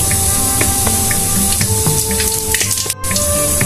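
Bay leaves and cumin seeds hit hot oil in a pan where fish was fried for curry, giving a loud, busy sizzle with bright spitting crackles and a brief dip near the end.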